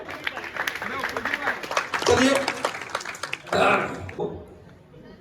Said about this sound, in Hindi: एक बार भाई के लिए जोरदार तालियां